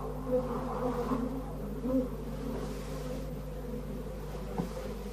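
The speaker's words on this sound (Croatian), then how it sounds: "se suočavaju sa gustim bučnim rojem od 160 miliona gladnih pčela" A dense swarm of about 160 million honeybees buzzes steadily around hives during hive inspection by beekeepers in the United States, a continuous low drone with no talk.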